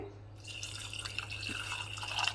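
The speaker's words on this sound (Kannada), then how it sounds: "ಇದಕ್ಕೆ ಒಂದು ಅರ್ಧ ಲೋಟದಷ್ಟು ನೀರನ್ನು ಹಾಕ್ತಾ ಇದ್ದೀನಿ" Half a glass of water is poured over dried, peeled jackfruit seeds in a pot, a short close trickle and splash building slightly louder toward the end.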